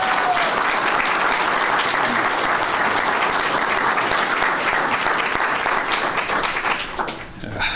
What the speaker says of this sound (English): So, round of applause, please, for Commissioner Martin.